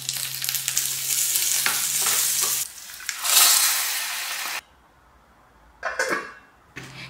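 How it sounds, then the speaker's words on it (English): A tadka of sesame oil, mustard seeds, peanuts, chana dal, urad dal and curry leaves sizzles loudly and close in a pan, in bursts of hissing crackle broken by sudden quiet gaps. "Make the tadka with a tablespoon of sesame oil, mustard seeds, handful of peanuts, a teaspoon of chana dal, a teaspoon of urad dal, curry leaves"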